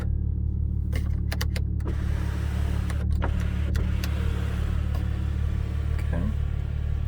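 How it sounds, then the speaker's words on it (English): A sunroof motor whirs in a 2013 Audi S4 cabin, a steady low hum with scattered sharp clicks and a brief mechanical chirp near the end, close and alone. "Sunroof functions normally."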